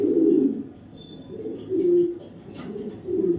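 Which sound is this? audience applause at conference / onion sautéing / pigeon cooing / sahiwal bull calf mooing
pigeon cooing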